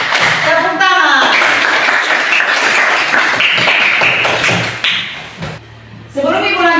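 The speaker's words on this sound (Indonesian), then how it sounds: "Tepuk 1, tepuk 2, tepuk 3, tepuk tangan." Pupils in a classroom clap hands in a counted rhythm while their teacher leads them, loud, dense claps running under voices, then a short pause before talking resumes.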